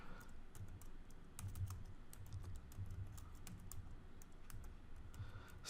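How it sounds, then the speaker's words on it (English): Quick, steady typing on a computer keyboard while entering an affiliate web address, a dense run of light key clicks, close but quiet, with no voice. "Let me just type this out."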